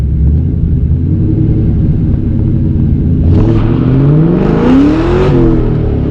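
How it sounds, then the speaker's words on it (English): A car with stock tires launches hard, its engine rumbling loudly up close and then revving sharply upward as the wheels spin, with a rising whine toward the end. "I just shred the tires"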